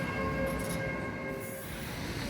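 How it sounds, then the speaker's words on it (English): A Sheffield tram rolls along steadily, its continuous rumble and hum loud and close throughout with a faint high whine, no voices over it. "we move on to our third B&M store using the Sheffield tram service"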